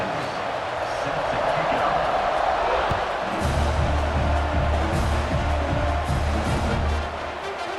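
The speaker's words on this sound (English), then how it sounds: "this crowd is buzzing after that last score" Stadium crowd noise in EA Sports College Football 26 after a touchdown and extra point, a steady broad roar with a low drum-like thumping pattern joining midway, continuous and fairly loud.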